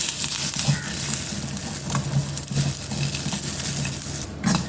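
Coconut pieces sautéing in a pan for a flat bean and brinjal curry, a steady soft sizzle with faint stirring scrapes throughout, close and even in level, with no talk.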